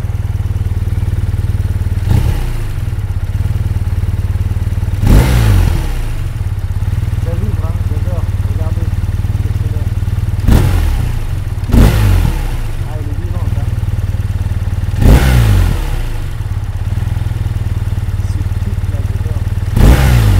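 A 2024 BMW R12 motorcycle engine runs steadily nearby with a deep, even idle drone, broken by several sharp blips and clattery bursts spaced a few seconds apart, with occasional faint talk.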